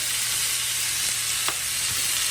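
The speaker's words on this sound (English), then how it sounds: "Here they are, sizzling away." Steady, dense sizzling of food frying in a hot cast iron skillet, a continuous hiss at close range with a faint clink partway through.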